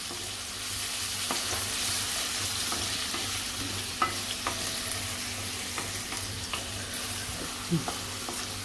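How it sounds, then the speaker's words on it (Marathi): Onions sizzle steadily over medium heat in a pan for paneer Kolhapuri while a utensil stirs and scrapes, with occasional sharper knocks against the pan. "मीडियम गॅसवरती आता चांगला परतून घ्यायचा आहे कांदा"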